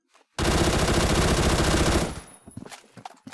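An AK107 rifle fires in the video game Phantom Forces. It lets out a loud, continuous automatic burst of about a second and a half, then stops, followed by a few quieter clicks and faint sounds.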